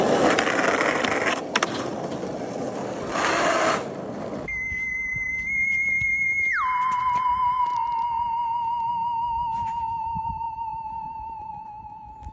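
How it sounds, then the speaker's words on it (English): Skateboard wheels rolling over pavement outdoors on a hot day, a steady rough broadband rumble that later gives way to a sustained high whine which drops in pitch partway through. "I think I'm going to go and skate"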